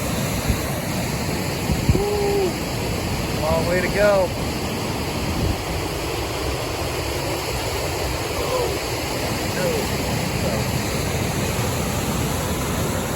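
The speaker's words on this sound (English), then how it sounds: "Big waterfall. All the snow melt." A big waterfall swollen with snow melt on the Pacific Crest Trail near Mather and Muir Pass gives a steady, close, rushing roar throughout, while a hiker briefly calls out and speaks over it.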